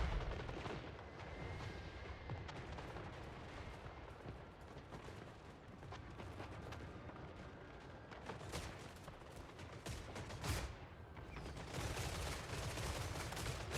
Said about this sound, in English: Wait, you guys are shooting!